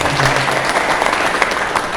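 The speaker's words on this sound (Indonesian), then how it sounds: "Tepuk tangan buat saudara-saudara." An audience at a talk on paying off debt claps continuously, dense and loud, a steady wash of applause filling the whole moment.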